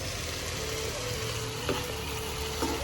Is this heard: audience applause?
no